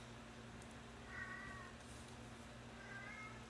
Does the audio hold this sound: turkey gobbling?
no